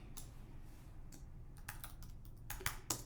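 Typing on a computer keyboard comes as faint, quick clusters of key clicks with short gaps, close to the microphone, over a low background hum and with no talk.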